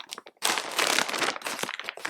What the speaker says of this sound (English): I have a small plastic bag here.